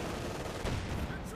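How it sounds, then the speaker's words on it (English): Gunfire and heavy cannon shots in a Company of Heroes 2 battle, including a Panther tank's high velocity gun, a dense crackling burst of rapid shots under a thick, noisy din. "Panther supporting with its high velocity gun there"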